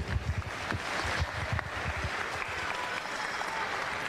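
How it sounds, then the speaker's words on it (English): Dense, steady applause from an awards crowd cheering the league winners at the 2018 Spalding Waratah League grand final presentation, a roomful of clapping sustained throughout with no pause. "Big round of applause to all our league winners."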